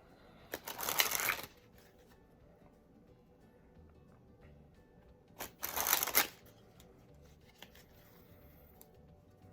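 Two quick bursts of Theory Eleven Artisans playing cards springing, each a crisp fluttering riffle lasting about a second, separated by a pause in a quiet room.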